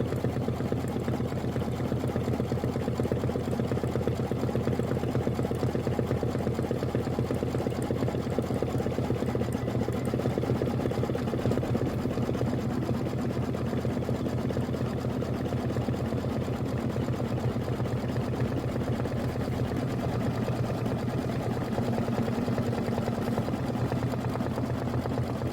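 A sewing machine fitted with a fine 70/10 needle stitches steadily through the thick layers of a holiday tote, a continuous close mechanical whir and hum with no break and no talk.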